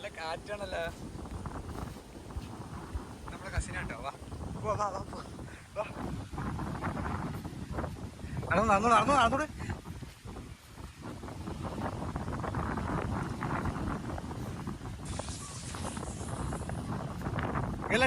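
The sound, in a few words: strong wind at the seashore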